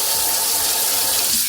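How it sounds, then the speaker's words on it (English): Tap water running in a home in Pleven, Bulgaria, a steady splashing hiss close by that trails off at the very end. "the water is working. The water is back in Pleven"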